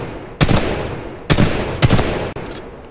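Weapon fire at the shooting range in the video game Titanfall 2, three loud, sharp gunshot bursts spaced unevenly, each with a short ringing tail, close and dominant.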